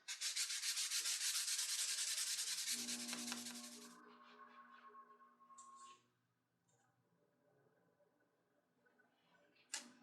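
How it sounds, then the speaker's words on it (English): Hand sanding a Damascus steel knife blade with 1200 grit sandpaper, a loud steady scratchy rubbing for several seconds that stops, leaving a fading ringing tone and a few faint clicks. "take a little bit of 1200 grit sandpaper and kind of polish it up a little bit"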